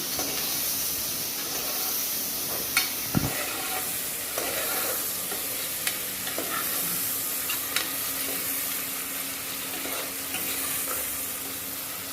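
Onions sauté in a pan for a Tirunelveli-style mutton intestine curry, salted as they soften. A steady close sizzle and hiss carries on throughout, with occasional scrapes and taps of a stirring spoon and no talking.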